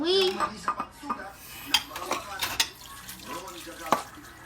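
Running tap water splashes in a sink while dishes clatter and clink irregularly during washing, close and moderately loud, with a child and an adult talking over it.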